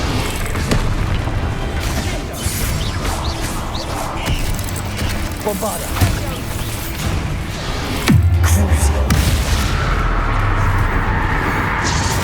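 Bombarda explosion spells cast in the Hogwarts Legacy video game: dense, repeated booming blasts and crashes amid ongoing combat clamor, with a bigger, deeper detonation near the end, loud and close.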